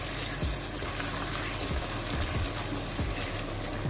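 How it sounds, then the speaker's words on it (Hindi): Whole cinnamon pieces and black cardamom frying in a pan, giving a steady, close sizzling hiss with a few soft low knocks from the pan. "और इसको हम भून लेते हैं"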